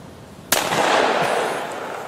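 A Browning Citori Special Sporting Clays Edition shotgun fires one loud, close report during outdoor dove hunting, the sharp crack trailing off into a long rolling echo after a quiet lead-in.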